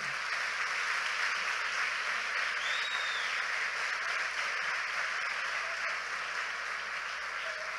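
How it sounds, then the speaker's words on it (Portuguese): Congregation at a Sunday church service applauding after a prayer, a steady, moderately distant wash of clapping with a low hum beneath. "pode aplaudir"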